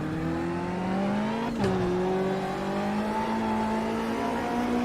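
An Aussie Racing Car Camaro engine in Automobilista 2 revs steadily upward in a smooth sustained drone, with one brief gear-change dip partway through and the rising pitch resuming afterward.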